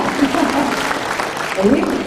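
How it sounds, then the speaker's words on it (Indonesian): An audience at a motivational seminar in Pekanbaru claps together in brief, moderately loud applause while a speaker's voice carries over it. "Tepuk tangan buat teman-teman semua di Pekanbaru ya."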